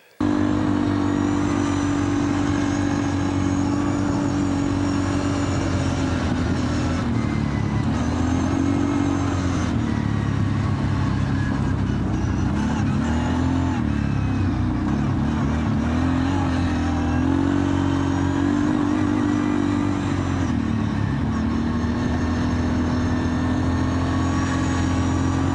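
A 2004 ATV quad rides a Wisconsin forest trail system, its engine droning loud and steady throughout with gentle rises and dips in pitch as the throttle shifts, close and continuous.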